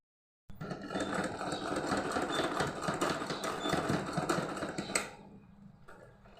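A sewing machine stitching velcro onto cloth runs in a fast, loud, steady mechanical clatter for about four and a half seconds, then stops abruptly, with no voices.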